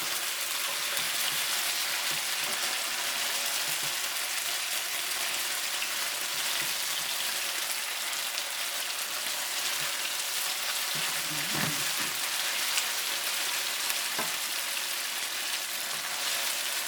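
Cubes of tofu fry steadily in a pan for a tomato sauce dish, a dense, even sizzle close up with a few faint clinks of a utensil partway through.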